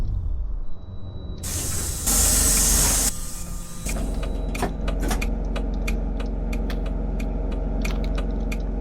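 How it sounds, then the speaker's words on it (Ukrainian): Electric whine and hiss of a PMZ T2 trolleybus heading to the depot, a loud broadband air burst early on, then a steady low drone with a series of faint ticking clicks. "тепер мій тролейбус їде в депо"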